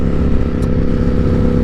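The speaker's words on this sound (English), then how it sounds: "so far the exhaust is great. I think it sounds awesome." Ducati Streetfighter V4 motorcycle fitted with an MGP slip-on exhaust, heard as a loud, steady engine drone with a rough low-end rumble throughout, close by and alone with no talking.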